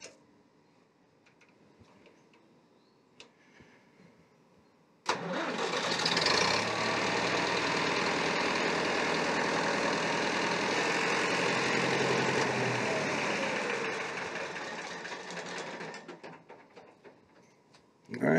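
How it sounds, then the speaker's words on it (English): A David Brown 990 tractor engine starts with a sudden roar, then idles out of gear with a steady loud knocking rumble for several seconds before winding down near the end. "let's fire up this tractor and see if we got a leak here anywhere."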